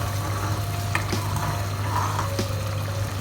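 Masala for aloo baingan wadi fries in a pan on high flame while being stirred. A constant close sizzle runs under a low hum, with occasional scrape-like bursts from the stirring and no speech.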